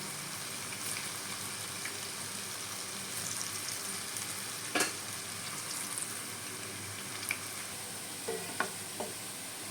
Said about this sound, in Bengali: এরকমভাবে সব এক এক করে ভেজে নেব